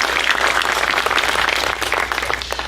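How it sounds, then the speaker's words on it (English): Applause from staff at a NASA TESS mission briefing at Goddard, steady indoor clapping from a sizeable crowd, moderately loud, gradually thinning toward the end. "So I'd ask you to give yourselves a round of applause for all that you've done to make TESS possible."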